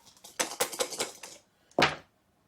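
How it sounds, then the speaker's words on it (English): Dice rattling and tumbling across a table for a Normandy board wargame, with a quick clattering roll followed by a short pause and one final sharp knock, heard alone. "Alright, and now let's roll some dice."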